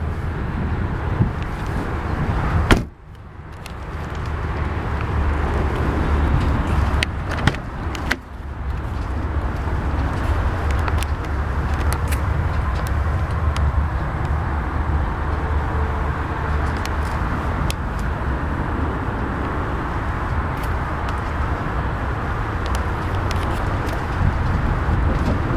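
A 2012 Dodge Charger SRT-8 door swings shut gently, giving a couple of dull, muffled thuds over a steady outdoor hum with light wind.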